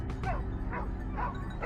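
Wild boar hunting dogs bark and yip in quick, repeated bursts, close and loud, over a low engine-like rumble.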